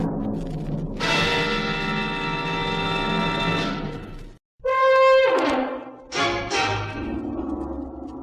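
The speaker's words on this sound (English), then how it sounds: "She pressed a dainty finger on the bell" Doorbell in a radio drama, sounding as a bright ringing chime in two separate presses with a brief hush between, each tone hanging and fading over a steady background.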